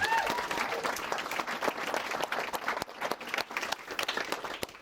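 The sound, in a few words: audience applause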